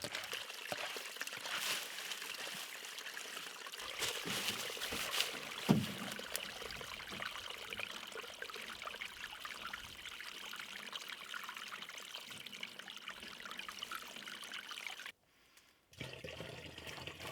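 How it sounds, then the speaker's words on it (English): Faint water trickles and dribbles steadily in a shallow drainage stream outdoors, a soft continuous gurgle with light background noise and a brief drop-out near the end. "Someday I'm going to get this drainage stream properly flowing again,"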